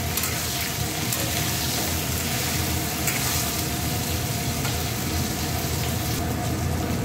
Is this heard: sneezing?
no